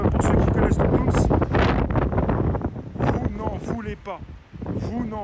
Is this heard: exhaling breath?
no